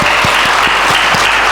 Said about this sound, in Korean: 이럴 때는 주께 박수가 나와야 되는 겁니다